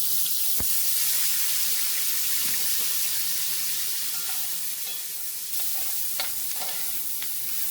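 Corn dropped into hot bacon grease in a pan, a steady bright sizzle and hiss running throughout with a few small pops and clicks.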